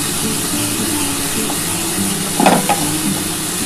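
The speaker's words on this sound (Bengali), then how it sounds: "দেখো খুব সুন্দর করে আমি মশলাটা কষিয়ে নিয়েছি।" Spice masala for a katla fish curry with potatoes sizzles steadily in a pan, with a brief scrape of stirring partway through, close and continuous.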